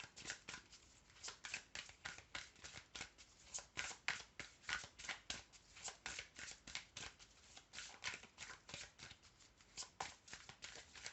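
Tarot cards are shuffled by hand in quick repeated riffles, a steady rhythmic papery flutter lasting several seconds with brief pauses between bursts.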